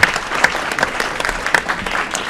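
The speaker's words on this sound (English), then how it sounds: "Big round of applause for the Aurora Youth Council." A council meeting audience gives the Aurora Youth Council a brisk round of applause, with dense, fairly loud clapping and a few sharper individual claps standing out.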